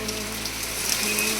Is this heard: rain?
yes